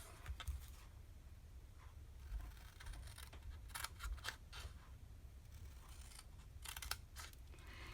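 Scissors snip through a cardboard box along score lines, making a series of close, crisp cuts and scraping crunches with brief pauses between strokes.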